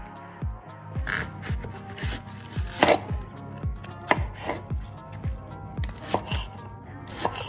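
A knife slicing cleaned vegetables on a board in a steady series of close, crisp cuts, roughly two per second, each with a sharp tap and a dry rasp.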